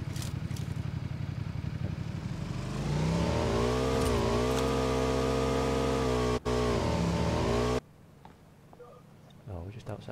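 Car engine in the video game PUBG, a steady rumbling drone that rises in pitch and holds as the vehicle speeds up, then cuts off abruptly near the end, with players talking over it.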